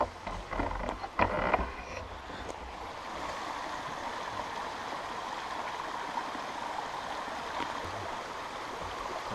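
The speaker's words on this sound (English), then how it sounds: "I didn't have to walk too far to find the stream." Forest stream at a campsite in George Washington National Forest, a steady broadband rush of flowing water, close and continuous, with a few louder splashy knocks at the start.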